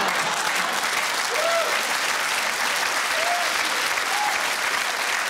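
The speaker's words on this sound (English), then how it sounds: "I love the fact that the crowd applauded." A studio audience applauding on a talk show, a dense steady wash of clapping hands that holds at an even level throughout, with a faint voice or two underneath.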